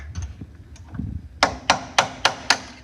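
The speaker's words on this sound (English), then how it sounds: "you'll take your hammer and your punch" A few soft taps, then five sharp metallic hammer strikes on a punch against a shock absorber lock ring, evenly spaced about a quarter second apart, each ringing briefly.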